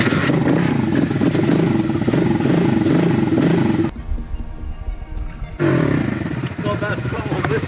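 A pit bike engine revs hard and loud in a close, steady roar, cuts off into a few seconds of quieter sputtering, then surges back up to full revs.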